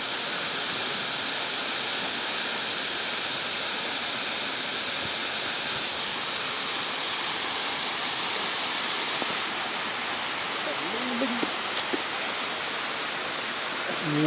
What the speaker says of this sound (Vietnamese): dòng suối nơi thác rất là đẹp luôn mọi người nhá.